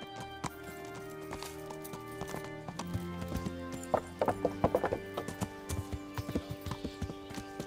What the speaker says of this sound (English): Oh, the horse's name's Alina.